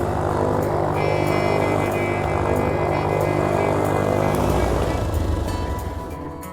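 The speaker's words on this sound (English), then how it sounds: "I headed for the Hobart-Cambridge Airport, where we expect Michel to finally arrive from Mildura." A propeller aircraft at Hobart-Cambridge Airport gives a steady, loud drone that holds throughout, with a droning tone that swells slightly and then eases off at the end.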